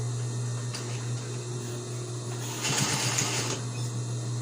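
A sewing machine stitches a homemade fabric face mask, its steady motor hum carrying throughout, with a brief louder burst of rapid stitching near the end, close and alone.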